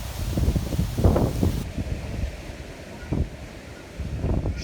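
Wind gusts across a rooftop during rain, a rough buffeting roar that swells in bursts and then eases, close to the microphone, with no talk.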